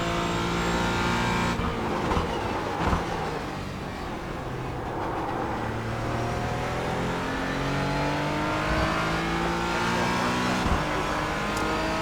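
A Porsche Cayman GT4 racing around Sebring in iRacing, its engine droning loudly and steadily, climbing in pitch through the gears with brief dips at each shift, with no letup across the lap.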